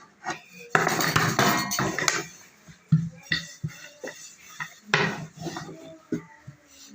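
Dough being rolled out on a floured surface for an Eid breakfast, with a rolling pin giving scraping, rubbing strokes and intermittent knocks and clinks of kitchenware, close and moderately loud, no talk.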